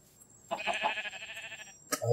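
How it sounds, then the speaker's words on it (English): A Minecraft sheep gives a single wavering bleat lasting about a second, clear and close, followed by a short second bleat with no talk. "there are so many sheep right here"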